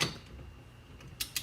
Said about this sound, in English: When you hear that click, if you haven't used the torque wrench before, that tells you you are at where you set it.